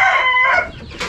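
Chickens in a poultry coop call loudly and close by, with a drawn-out clucking cry followed by a shorter squawk, heard alone without talk.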